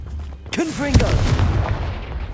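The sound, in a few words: Confringo blasting spell cast in video game Hogwarts Legacy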